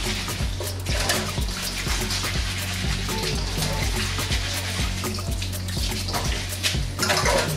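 Tap water runs steadily into a sink as seaweed is rinsed by hand, a continuous splashing hiss with soft sloshing and knocks throughout, fairly quiet and close.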